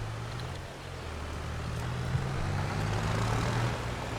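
A John Deere tractor engine in a logging and farming video game drones steadily at low pitch, a continuous mechanical hum that swells slightly partway through, with no voices over it.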